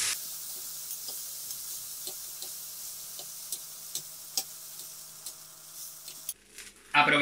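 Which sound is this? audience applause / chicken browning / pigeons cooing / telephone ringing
chicken browning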